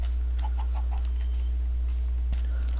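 A chicken in a video game gives a quick run of about four short, light clucks early on, then goes quiet over a steady low background hum.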